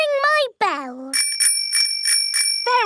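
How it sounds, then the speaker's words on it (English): A cartoon bicycle bell from a Peppa Pig children's episode rings in four bright, evenly spaced dings, loud and close, framed by a child-like cartoon voice before and after. "Ringing your bell lets others know you are there."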